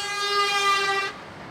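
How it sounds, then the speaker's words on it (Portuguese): A loud, sustained vehicle horn blasts on a highway for about a second, a steady tonal honk that cuts off abruptly into quieter road noise. "Outros até buzinam para que ele saia da frente."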